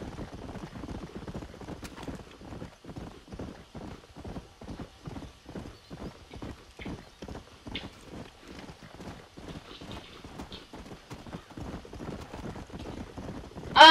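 A horse's hooves clip-clop in a fast, steady rhythm in the Red Dead Redemption video game, close and continuous, with a brief whinny-like burst at the end and no talk.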